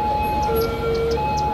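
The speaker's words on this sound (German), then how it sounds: "da ist ein Krankenwagen. Wo fährt der hin?" Ambulance siren in the city-building game Cities: Skylines, a sustained wailing tone held steady at moderate distance over low traffic rumble, with no talking.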